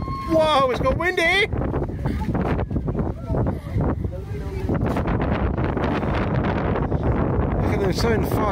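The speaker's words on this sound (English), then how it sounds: "it's got windy!" Strong wind gusting across an open countryside deer-feeding spot, a steady broadband roar buffeting the microphone for the whole stretch, with a voice exclaiming briefly near the start.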